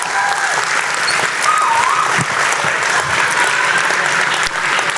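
Loud, full applause fills a school auditorium at a middle school winter music festival as the crowd claps for the students, a sustained dense roar of hands with faint voices mixed in.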